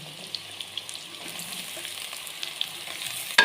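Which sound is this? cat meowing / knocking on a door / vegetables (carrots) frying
vegetables (carrots) frying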